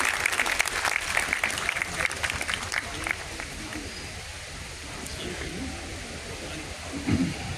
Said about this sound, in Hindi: आपकी भरपूर तालियों में हमारे दोनों मेहमानों का इस्तकबाल कीजिए।